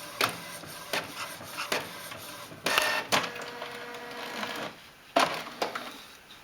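A printer printing onto cotton fabric for a dolls house: steady whirring with repeated mechanical clunks and clicks as the print head shuttles and the sheet feeds, close and moderately loud, with no talk.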